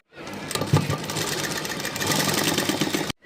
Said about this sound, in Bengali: ভাঁজ করার পর এই মিডিলে আমি সেলাই দিয়ে দেবো।